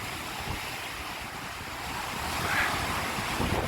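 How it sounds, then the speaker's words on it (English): Strong wind buffets the microphone on the Blackpool promenade while a choppy sea surges and breaks below, a continuous roaring wash that swells slightly toward the end, with no voices. "Sorry about the wind noise, nothing we can do about that."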